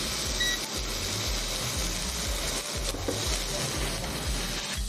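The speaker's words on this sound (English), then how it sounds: "Our raclette, it's starting to melt, it's sizzling nicely" A steady, close crackling sizzle of melting raclette cheese, with a low rhythmic mechanical hum pulsing underneath.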